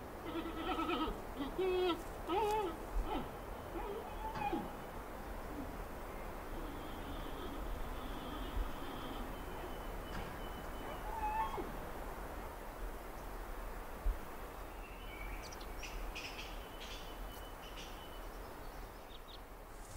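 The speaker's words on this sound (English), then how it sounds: "the sound of loud bleating and chirping raises hopes of a chance to get close enough to" Wild giant pandas in mountain forest bleating and chirping, several short high calls early on and scattered later, fairly distant under steady background noise.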